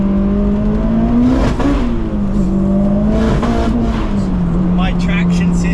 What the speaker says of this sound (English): we're going to run full boost